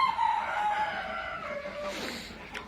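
Chickens in a coop make a drawn-out crowing call right up close, followed by softer clucks and shuffling.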